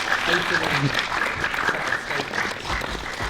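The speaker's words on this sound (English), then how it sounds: "Why don't we give both of our debaters a round of applause for that?" Audience applause for two debaters at the close of a school debate on belief in God, steady and fairly loud clapping filling the room throughout, with a voice talking faintly beneath it.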